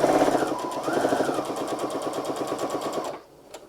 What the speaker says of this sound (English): we're just sewing along that line